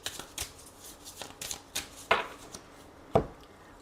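Tarot cards riffled and cut for a daily reading, a string of soft papery flutters topped by two sharper snaps as the deck is split, close and fairly quiet with no talking.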